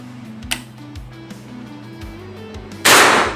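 A single sharp PCP air rifle shot cracks out near the end, preceded by quiet clicks and handling noises.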